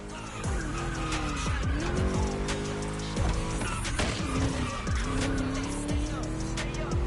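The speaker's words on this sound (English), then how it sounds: "Just listen to that V8 like a chunky, down-tuned guitar riff." A V8 racing car engine in the video game The Crew Motorfest roars and rises through repeated gear shifts, with tires squealing and skidding over the loud, steady motor noise.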